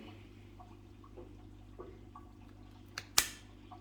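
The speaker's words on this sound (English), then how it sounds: "I'll go in with a branch cutter" A branch cutter snaps through old branches on an Acacia galpinii monkey thorn bonsai, giving one sharp crisp snip near the end after a few faint clicks over a quiet hum.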